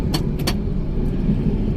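Car driving along after a shift into third gear: a steady low engine and road rumble, close and even, with a couple of brief high jingling rattles near the start.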